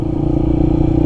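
A Honda XR150L motorcycle engine idles steadily close by, a continuous low throbbing rumble with a light mechanical clatter and no voices.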